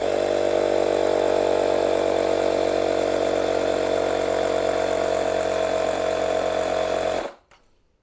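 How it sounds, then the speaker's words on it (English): A Makita 18-volt cordless inflator/compressor runs steadily at 30 psi while pumping up a tyre, making a loud, close, continuous motor drone with a buzzing pitch, then stopping abruptly near the end, with no voices. "So yeah, I'll set the inflator to 30 psi. Connect that up."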